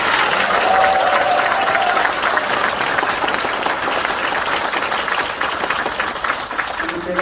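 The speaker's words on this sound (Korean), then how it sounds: "박수 한번 쳐주죠." An indoor audience at a book talk in a workers' cultural center in Gumi breaks into sustained, dense applause that stays loud throughout and fades slightly at the end.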